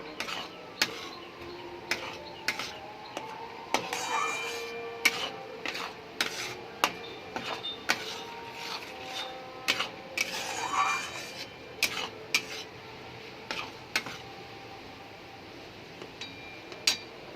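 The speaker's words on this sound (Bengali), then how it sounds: "টক দইটাকেও ভালো করে নেড়ে চেড়ে মিশিয়ে নেব।" A spoon repeatedly scrapes and taps a pan while whisked sour curd is stirred into spices for Bengali doi katla, giving steady, close, moderately loud clinks and rubs at a regular rhythm with no talk.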